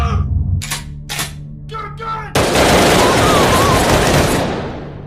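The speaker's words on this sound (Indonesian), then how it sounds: "memperlihatkan suara atau sound effect suara tembakan shotgun dengan volume yang dinaikkan" A shotgun blast sound effect in the 2018 film Unfriend, boosted in volume: a loud, harsh burst of broadband noise that hangs on for a few seconds and slowly fades, following a few brief clipped sounds.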